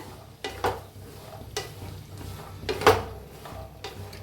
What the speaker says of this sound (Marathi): गॅसवर ठेवलाय बघा पॅन चांगला गरम झालाय। आता आपण हे भाजून घेऊया पहिला।